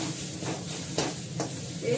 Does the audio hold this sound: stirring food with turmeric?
yes